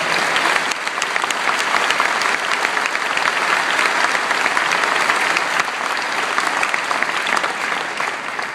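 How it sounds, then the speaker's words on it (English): Sustained audience applause at a community college commencement for President Tim Wines and Provost Joe Costello, a loud, dense crowd of clapping that holds steady and eases slightly at the end. "Can I please have a round of applause for President Tim Wines and Provost Joe Costello."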